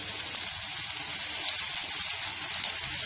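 Mushrooms go into hot oil on a lowered stove flame and deep-fry with a soft, steady hiss, a few sharper crackles popping out in the second half.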